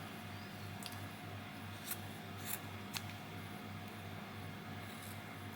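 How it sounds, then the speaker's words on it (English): Small snips make a few quiet, brief clicks while cutting old fabric during slow hand stitching, spaced over a few seconds against a faint steady room hum. "Let's just see if I've got my little snips here."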